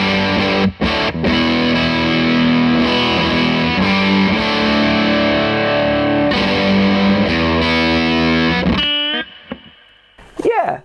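Fuzzy, mid-scooped electric guitar through a Fuzzrocious Feed Me pedal rings out in thick sustained chords, loud and close, before the tone breaks off near the end into a few brief wavering notes.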